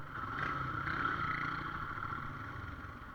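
A Royal Enfield Himalayan motorcycle rides through city traffic with a faint, steady engine hum and a mild rise and fall in revs, heard from the rider's position with surrounding traffic noise.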